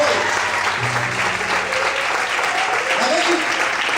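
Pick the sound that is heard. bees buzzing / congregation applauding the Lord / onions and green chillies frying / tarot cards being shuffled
congregation applauding the Lord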